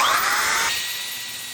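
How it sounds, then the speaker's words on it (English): A random orbital sander whirs loudly and steadily on a bamboo and epoxy carving, its pitch dropping partway through as it keeps running without any talking. "So let's sand it off, see how it looks."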